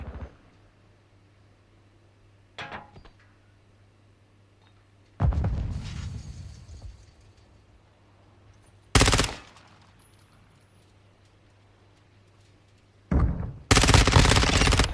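Bursts of automatic 9mm gunfire in the video game Call of Duty Modern Warfare II, with several separate loud volleys spaced apart by quiet stretches and a longer sustained burst at the end.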